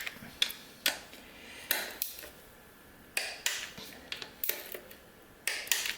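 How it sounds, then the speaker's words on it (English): A torque wrench tightens 4L80E transmission bolts to 18 foot-pounds, giving faint, sharp metallic clicks in irregular bursts with quiet gaps between them. "I'm going to go ahead and torque all these to 18 foot-pounds."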